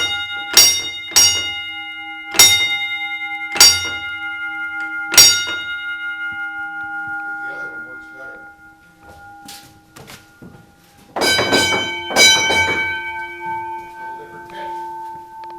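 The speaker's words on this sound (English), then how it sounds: "Yep, whistle's on and the bell's on." An ASL-100 electric locomotive's bell rings out in five sharp, resonant strikes, each ringing down, then quieter clanks follow before a dense cluster of loud overlapping dings near the end.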